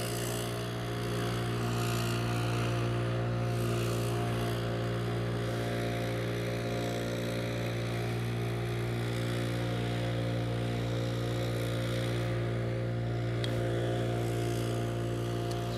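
A loud leaf blower runs on a golf course, its engine a continuous droning roar with a steady hum and a slightly shifting whine, close and unbroken throughout.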